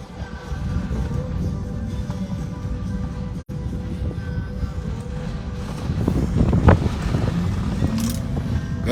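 Strong windstorm gusts buffet a moving vehicle cruising through Fort Nelson, BC, a steady low rumble of wind noise that swells louder and more turbulent toward the end, with no voices.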